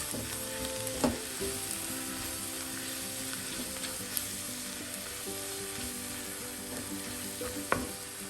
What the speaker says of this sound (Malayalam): എല്ലാം കൂടെ ഒന്ന് നന്നായി മിക്സ് ചെയ്യും പച്ചമണം മാറുന്ന വരെ മിക്സ് ചെയ്യുക